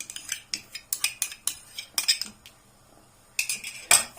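A metal spoon clinks repeatedly against a pot while clotted cream goes into thick rice pudding, giving a run of sharp, close taps with a short pause before a final louder clink.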